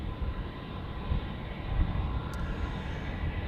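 A British Airways airplane at Zurich Airport produces a steady, moderately distant engine rumble that holds throughout without any voices.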